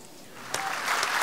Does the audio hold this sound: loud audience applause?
yes